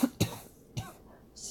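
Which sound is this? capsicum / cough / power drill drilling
cough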